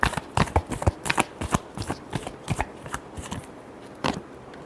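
Tarot deck being shuffled by hand, with quick papery riffles and flicks in a rapid irregular burst that thins out, plus a final snap near the end.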